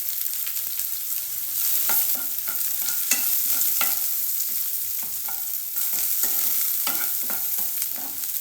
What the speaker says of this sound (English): Fry the onions until it changes to light pink color